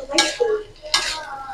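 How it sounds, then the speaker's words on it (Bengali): Vegetables for fried rice are stirred and tossed in a pot, two scraping, clattering strokes of a utensil against the metal, close and fairly loud over a faint background sizzle. "এই সবজিটা খুব সুন্দর করে মিক্স করা লাগবে"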